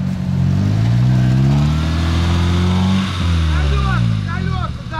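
A Land Cruiser off-road vehicle's engine revs hard and holds high during a recovery pull, loud and close, with people shouting over it.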